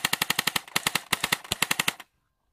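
A G36 airsoft gun firing in quick, even bursts of sharp mechanical cracks, about twenty shots over two seconds with a brief pause midway, close and loud, then abrupt silence.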